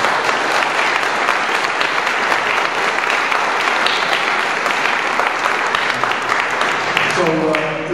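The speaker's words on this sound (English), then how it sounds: "She deserves a round of applause for everything that she has done." An audience at a health policy awards ceremony gives sustained, dense applause, a continuous wash of clapping that fills the room for about eight seconds, with a voice emerging faintly near the end.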